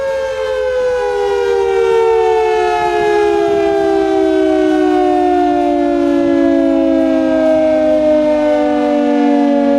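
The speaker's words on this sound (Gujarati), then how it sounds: "આનો વોઇસ તમે ફૂલ કરીને બતાવો કે કેવી સાયરન વાગે છે" A loud civil defense siren wails continuously, its steady tone slowly sliding downward as it winds from fast to slow, sounding alone with no voices.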